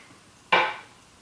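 One wooden percussion knock from a lo-fi beat, sharp and fairly close, fading over a fraction of a second with a hint of another hit starting at the very end, no voices.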